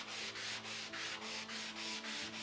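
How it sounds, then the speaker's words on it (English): A sanding sponge rubs back and forth over wood on a door being restored, making about eight regular, rhythmic scratchy strokes, close and alone. "I'm running over everything with this sanding"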